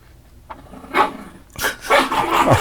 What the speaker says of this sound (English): Our ferocious little pup.